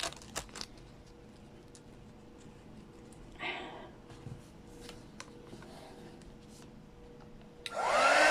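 A handheld dryer blows steadily near the end, drying paint on an eraser board craft, following quiet handling noises and soft thumps.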